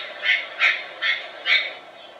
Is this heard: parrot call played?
yes